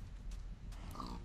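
Pig in a video game, apparently underwater: a short, faint run of low grunts over a soft background rumble.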